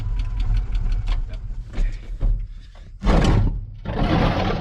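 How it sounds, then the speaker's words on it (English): An old lawn tractor engine cranks and sputters with a low rumble, then surges into louder, rougher running in uneven bursts, close by and without talk. "Let's get this engine running before I kill the battery."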